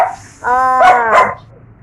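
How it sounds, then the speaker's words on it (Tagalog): A small dog barks in a short burst of two or three close, loud yaps in a home being cleaned for Christmas. "maingay yung aso ng aking pamangkin na yan guys"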